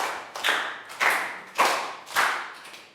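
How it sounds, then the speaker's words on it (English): A class of Year 3 pupils gives a set of claps, four sharp hand claps heard in an even rhythm, each with a short decay, close and fairly loud with no talking. "I think we'll do 5 claps"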